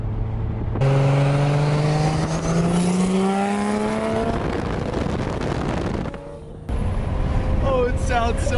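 A Nissan S13 engine revs hard on the throttle, its loud note climbing steadily, dropping off and then spiking again in sharp bursts, recorded close with wind buffeting.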